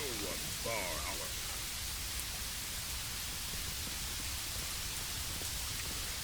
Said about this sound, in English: now it's raining too